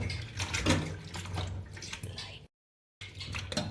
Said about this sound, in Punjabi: ਹੁਣ ਆਪਾਂ ਚੰਗੀ ਤਰ੍ਹਾਂ ਧੋਵਾਂਗੇ